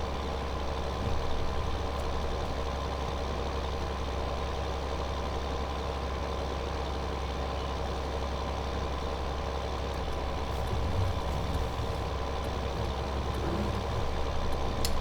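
A Claas Axion tractor engine in Farming Simulator 2015 idles with a steady low drone, constant and unchanging throughout, with no talking.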